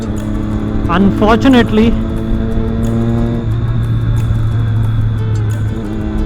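Triumph Daytona 675 motorcycle engine rumbling steadily with a brief rising rev early on, heard under someone talking close to the microphone.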